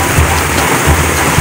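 Heavy rain pours during a storm in Dayton, Ohio, a steady close hiss of falling water with a few soft low rumbling swells underneath, no voices.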